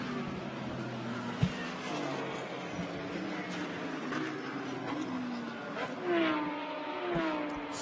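A Porsche Cayman GT4 race car at Suzuka during a Blancpain GT Series Asia race gives a distant engine drone with rising and falling tones as cars pass, under a steady background roar.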